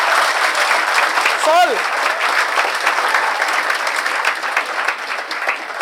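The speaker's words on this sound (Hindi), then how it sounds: "जोरदार तो तालियां" Audience at a NEET toppers' event breaks into strong, steady clapping that holds throughout, with a brief spoken word and a vocal sound rising over it.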